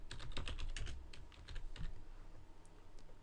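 Quick bursts of keystrokes on a computer keyboard while typing text into a Microsoft Word 2007 document, close and fairly quiet, with the clicking clusters thinning out toward the end and no voices.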